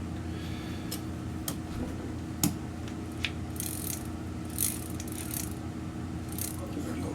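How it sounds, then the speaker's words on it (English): A DAM Quick 550N fishing reel being cranked, giving soft ratcheting gear clicks and a few sharper ticks close up against a quiet low mechanical hum, with no talking. "I want it to crank freely"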